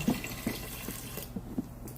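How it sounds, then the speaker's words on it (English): Water poured from a cup into a pressure cooker in a home kitchen, a short run of gentle splashing with a few soft drips, quiet and close, no voices. "Here, you pour that water."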